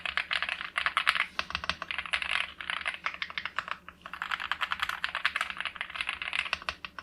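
Hot-swap switches on a Lorgar mechanical keyboard are pressed in quick bursts of loud, crisp clicks, two runs of rapid typing separated by a brief pause, close and alone.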